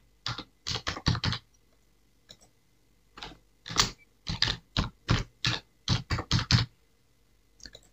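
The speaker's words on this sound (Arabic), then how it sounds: "سنحاول أن نكتبه بطريقة صحيحة." Fingers type a password on a computer keyboard, three close bursts of crisp rapid key clicks separated by short pauses, with a single click at the end in a quiet room.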